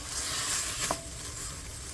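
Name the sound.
sautéing ingredients for Chettinadu fish curry paste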